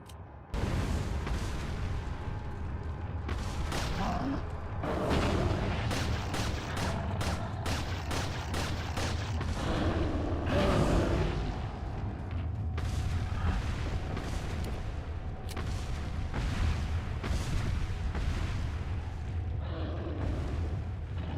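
Booming explosions and blasts in Resident Evil 4, loud and repeated across the stretch with rumbling low-end, heavy impacts recurring at uneven intervals.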